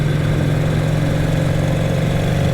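A 1938 Vincent Series A Rapide motorcycle engine runs loud and close, a steady deep throbbing drone that holds an even pitch the whole time with no pauses.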